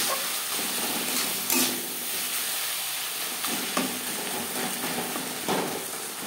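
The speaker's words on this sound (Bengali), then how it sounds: "লবণ হলুদ মশলার সাথে বেশ ভালো করে মিক্স করে দেবো।" Salt, turmeric and spices being stirred into a tuna curry in a pan, a steady sizzling hiss with soft scraping strokes and a few louder clacks of the spoon against the pan.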